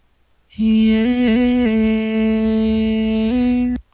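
A single voice sings a long held melody line with a few pitch steps, smooth and reverberant, then cuts off abruptly.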